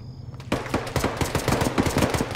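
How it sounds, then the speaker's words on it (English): Arma 3 combat gunfire: sustained rapid automatic bursts that start abruptly and continue as a loud, dense rattle of shots with no talking. "Is that shooting from behind us?"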